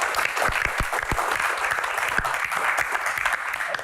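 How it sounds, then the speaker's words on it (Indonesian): Studio audience applause for a guest on an Indonesian talk show, a steady dense patter of many hands clapping at moderate volume, with no talk over it. "Tepuk tangan dong buat Pak Bolot."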